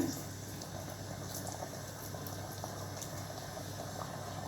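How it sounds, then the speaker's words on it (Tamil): Mutton biryani liquid boils in a pressure cooker pot, a steady soft bubbling hiss that runs evenly throughout with no voices. "இப்போது கொதிக்குது நல்லா."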